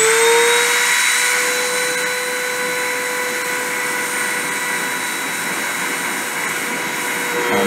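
A high-speed spindle spins at 30,000 RPM while depositing 1.6 mm copper wire onto an aluminum oxide substrate, giving a steady loud whine with high tonal harmonics throughout, no voices.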